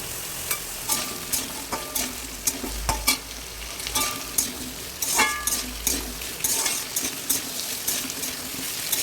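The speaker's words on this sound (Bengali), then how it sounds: "সবার প্রথমে দিচ্ছি আলু, কোয়াশ, পটল, গাজর, বটবটি আর মিষ্টি কুমড়ো। এগুলোকে একসাথে ভেজে নেব কিছুক্ষণ।" Potato, squash, pointed gourd, carrot and pumpkin are stir-fried together in a pan, a spatula scraping and tossing in a regular rhythm over a steady background sizzle, close and fairly loud.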